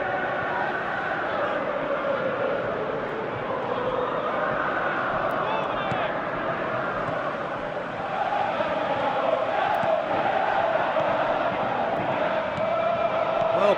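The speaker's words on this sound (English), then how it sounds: "you can feel and hear how the crowd are reacting to all of this" A football stadium crowd at a European club match reacts as one continuous roar and murmur, swelling slightly at times, with a commentator talking over it throughout.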